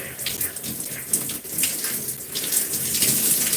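Water runs steadily from a tap while hair is rinsed, a close splashing hiss broken by uneven spatters and drips as the flow hits hair and skin, with no talking.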